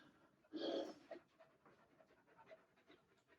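A dog pants close by in a home workshop, a loud burst of quick breaths that fades into softer, steady panting.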